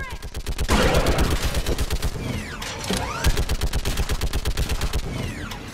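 Mounted gun fire in the sci-fi shooter Mass Effect 3, defending a bridge against enemies: continuous rapid automatic bursts with a rhythmic pulsing beat, loud and close, mixed with whooshing effects and talk over the action.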